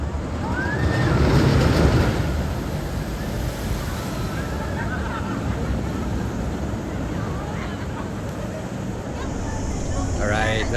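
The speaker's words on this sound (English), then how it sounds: "Nice getting some water sprayed over you." Water spraying over riders on a theme park water ride on a hot day, a broad rushing wash mixed with wind buffeting the microphone, swelling early then settling into a steady hiss.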